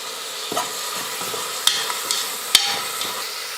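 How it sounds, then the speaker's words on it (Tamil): Carrot and curry leaves sauté in hot oil with a continuous close sizzle, broken by scattered stirring clicks and scrapes, two of them sharper than the rest. "எல்லாம் சேர்த்து எண்ணெயில் நல்லா வதக்கிக்கலாம்."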